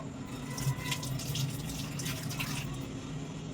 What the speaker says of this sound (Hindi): इसको पानी से धो देंगे